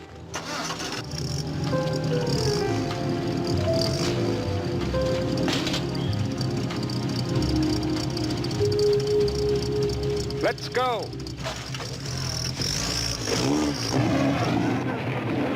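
A 1960s MG car engine cranks, catches and revs up, the motor droning steadily close by for several seconds with rising whines of revving, while people talk over it.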